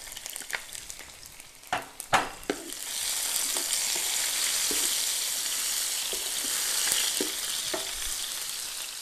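Cumin seeds and chopped garlic frying in hot oil, a steady close sizzle with sharp pops and stirring clinks early on, no talking.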